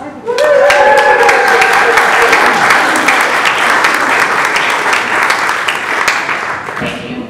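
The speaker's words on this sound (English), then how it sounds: "We want to thank you with a huge round of applause." A congregation applauding volunteers at a church service, loud dense clapping that swells quickly and holds steady, with a few voices and tonal sounds briefly audible early on, before tapering near the end.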